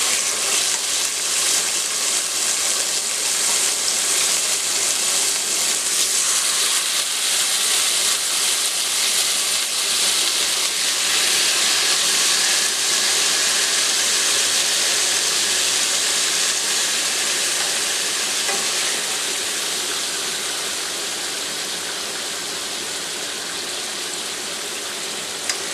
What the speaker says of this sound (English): Place the chicken thighs into saucepan and sear the meat to lightly brown on one side.